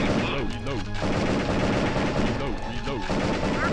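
Gunfire from the FMV shooter Area 51 rattles on continuously, a dense stream of game shots layered over busy music and effects, with no pause across the stretch.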